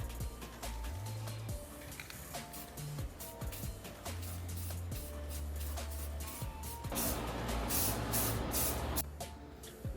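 Several short hissing bursts of spray paint lay a light coat over scratched car interior trim, ending in a longer, louder spray, all against a low, rumbling background.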